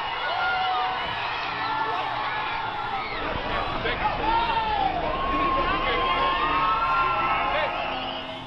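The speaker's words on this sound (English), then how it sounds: "as the crowd cheered." A protest crowd cheers and shouts at a roadside confrontation with a driver's car, a steady, loud mass of voices with whoops and raised cries running through the whole stretch.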